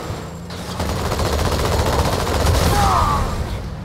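Rapid automatic gunfire from the Halo 2 video game rattles on continuously at close range, loud and dense for several seconds, with no talk over it.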